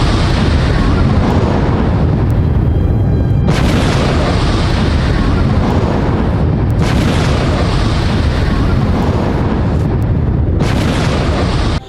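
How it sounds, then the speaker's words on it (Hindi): Hezbollah rockets fire one after another at the Israeli border with a loud, continuous roaring rumble of launches and explosions, swelling in several surges over a dense background. "एक के बाद एक कई रॉकेट दागे गए।"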